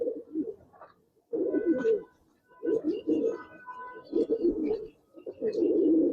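Giribaz racer pigeons cooing in a loft, close and clear, with five or so throaty rolling coo phrases separated by short pauses.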